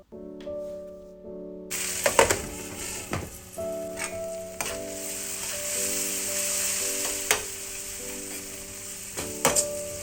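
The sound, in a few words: tomatoes cooking with spices on medium flame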